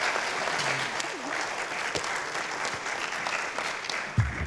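A graduation audience at a fire science academy claps in a steady, dense wash of applause that fills the room throughout, with a low thump near the end.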